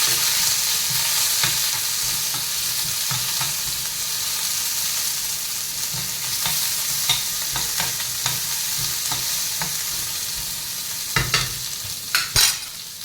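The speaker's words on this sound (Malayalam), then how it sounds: "അതിനുശേഷം നമുക്ക് കുറച്ച് സവാള, വെളുത്തുള്ളി, പച്ചമുളക് ഇതൊക്കെ ഇട്ട് ഒന്ന് ചെറുതായി വഴറ്റി കൊടുക്കാം." Onion, garlic and green chilli sauté in hot oil in a pan for a bitter gourd fry, a steady close sizzle with scattered scraping stir clicks and a few louder spatula knocks near the end, no voices.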